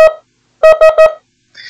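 Morse code SOS keyed as separate letters for the Spanish word besos: a short beep, a gap, then three quick tone pulses, and a faint higher blip at the end, loud and clean with no voice.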